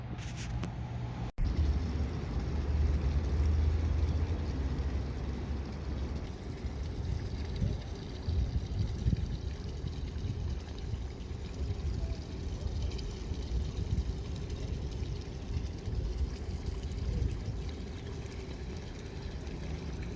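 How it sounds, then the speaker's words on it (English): Water fountains at the Paseo, a steady broad rushing and splashing wash heard close, with a brief click near the start and a faint high whine, no voices. "I'm at the Paseo, right by the fountains"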